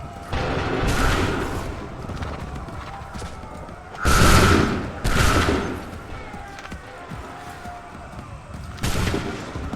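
Musket volleys crash out in the Assassin's Creed 3 battlefield, several loud rolling bursts spaced a few seconds apart, each a broad ragged blast that fades into lingering battlefield noise.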